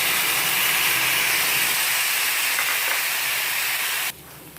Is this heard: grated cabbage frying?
yes